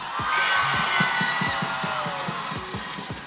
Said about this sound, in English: As you hear the crowds, you hear our teams, Minana Evos, and their cheer.